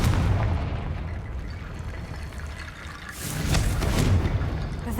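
Confringo blasting spells from Hogwarts Legacy bursting in repeated booming blasts, a loud rumbling explosion at the start and another swelling burst around three seconds, over dense noisy game ambience with no talking.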